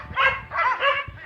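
Dogs bark outdoors in three quick, close, loud yelps within about a second.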